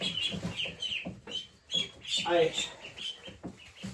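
Young domesticated ducks give repeated high, chirpy calls close by in short bursts, mixed in with a person talking.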